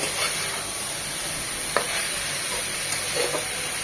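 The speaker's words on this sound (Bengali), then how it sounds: "এদিকে আমাদের বাঁধাকপি ভাজিটাও প্রায় হয়ে এসেছে" Shredded cabbage stir-frying in a pan with no added water, cooked with shrimp, producing a continuous dense sizzle with a few soft spatula scrapes and taps, no talking.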